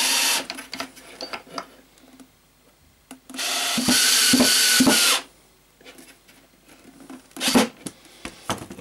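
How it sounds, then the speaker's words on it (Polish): Screw being driven into the mounting plate of a concealed cup hinge on a cabinet, a grinding, rubbing burst of about two seconds with shorter scraping bursts around it, close and fairly loud. "Wkręt wkręcamy w górny otwór"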